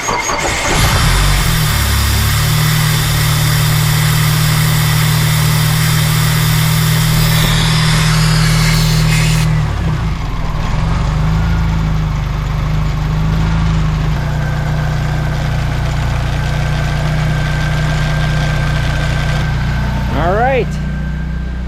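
A Mitsubishi Eclipse fitted with a nitrous system cranks and fires up close by, then settles into a loud, steady idle that runs throughout, with brief voices over the engine.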